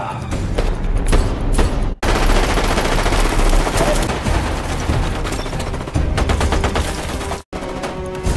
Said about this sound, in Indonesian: Namun tiba-tiba Bell muncul memberikan tembakan.